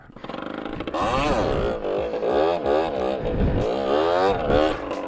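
A stock 50cc motorcycle engine revs hard during circle wheelies, loud and close, its pitch rising and falling in repeated swells with a buzzing tone throughout.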